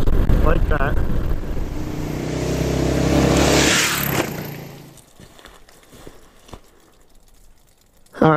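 A Kawasaki KLR 650 motorcycle engine revs with the throttle in melting snow, a loud, close, sustained roar that climbs and holds before dropping to a quieter idle, then surging again briefly at the end.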